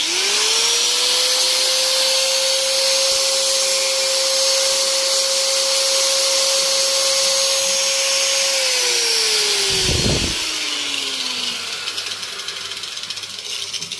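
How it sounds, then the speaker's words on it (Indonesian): An angle grinder whines up to speed, holds a steady high-pitched drone with harsh grinding noise on a metal part from a Honda Beat carburetor scooter's starter, then winds down after a sharp clunk near the end. "Jadi kita gurinda dulu ya, kita gurinda dulu guys."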